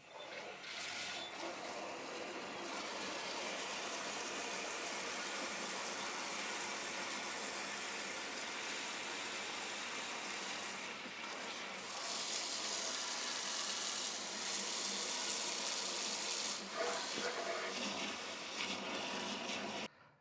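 A carpet extractor machine filling with a mix of hot and cold water: a steady rushing hiss of water flowing into the tank, growing louder partway through, with no talking.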